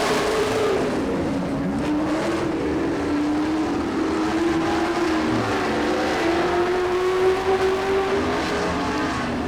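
The 24K race car driven by Tyler Kulo exits turn 4 at a dirt track heat race, its engine whining steadily and rising in pitch as it approaches from mid-distance, with no talking over it.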